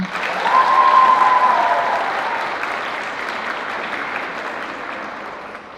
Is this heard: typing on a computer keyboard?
no